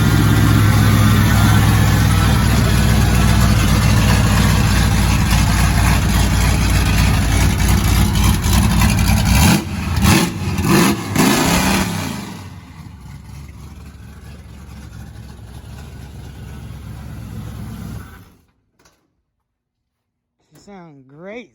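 A 1977 Ford F150 truck engine idles with a steady low rumble, revs up briefly in a few bursts, then settles and cuts out near the end.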